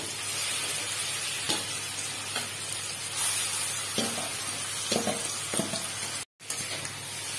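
Steady, crackling sizzle of olives frying in hot mustard oil, with occasional stirring scrapes, continuous and close, no voices.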